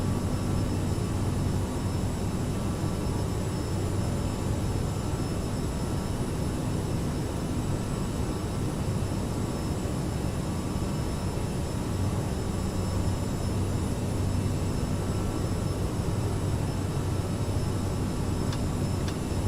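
Aerosoft CRJ700 regional jet in Microsoft Flight Simulator, a steady, loud broadband engine roar that holds unchanged throughout with no talk over it.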